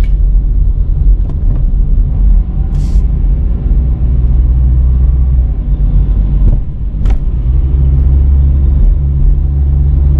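Steady city road traffic in Australia rumbles around a car from inside the cabin, a loud continuous low drone with passing vehicles and a couple of brief hisses, no talking.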